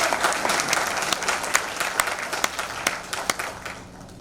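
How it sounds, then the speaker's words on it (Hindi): An audience at a lecture on Indian knowledge traditions breaks into applause, dense clapping with a few sharp, louder claps standing out near the end. "अभी और तालियां बजनी बाकी है"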